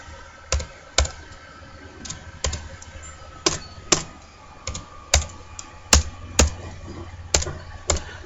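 A laptop keyboard is struck hard, giving loud, irregular, sharp keystroke clacks spaced about half a second to a second apart, close up with no talk.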